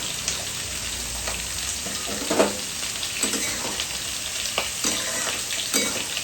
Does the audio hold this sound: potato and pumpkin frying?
yes